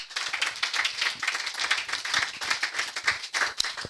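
A church congregation claps steadily and densely at a Sunday worship service, many hands together in a fast, continuous patter that stays loud throughout without talk.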